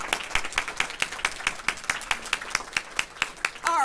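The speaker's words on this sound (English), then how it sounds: "let's just clap for a minute" An audience at an adoption-day event claps together in a steady, rhythmic beat of distinct, evenly spaced claps, fairly close, with little talk beneath.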